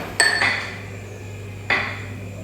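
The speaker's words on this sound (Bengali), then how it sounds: "তো আমি এখানে 2 চামচ জলও দিয়ে দিয়েছি আর ময়দাটাকে মিশিয়ে নিচ্ছি।" A spoon clinks against a bowl while flour is mixed with a little water into a glue paste, with three sharp taps spread across a quiet background hum and no talk.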